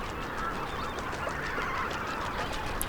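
Juvenile lesser flamingos call in a flock, a dense, continuous honking chatter at moderate distance with no voices.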